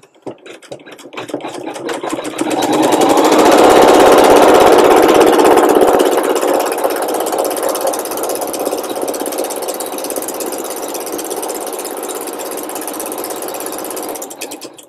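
Sewing machine with a presser foot stitching fabric for a daisy appliqué quilt block, a steady close mechanical whir that swells loud early, then runs on evenly without talk.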